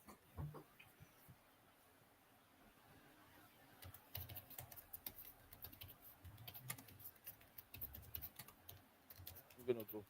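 Keys clatter on a computer keyboard in sparse, irregular clicks at first, then in faster, denser bursts of typing, faint and somewhat distant over a quiet background.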